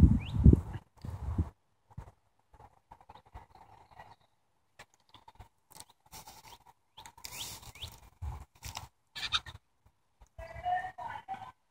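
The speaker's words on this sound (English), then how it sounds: "All the chickens clucking away." Mostly brown chickens clucking in a farm coop, with scattered short clucks and calls coming in bursts amid quiet gaps, moderately close, with a louder rustle at the start.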